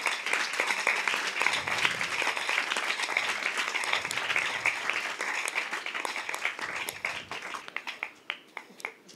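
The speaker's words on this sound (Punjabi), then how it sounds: "ਹਾਂਜੀ ਤਾਲੀ ਵਜਾ ਸਕਦੇ ਹੋ" Applause from a church audience during a Mother's Day Sunday service sermon: a full, steady round of clapping that thins toward the end into a few separate, distinct claps.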